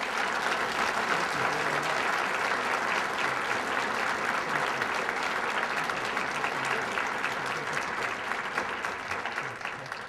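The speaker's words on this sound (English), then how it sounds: "Let's give them a great round of applause" An audience at a Respect Life rally applauds, a dense, sustained wash of clapping from many hands that holds steady for about ten seconds before tapering slightly at the end.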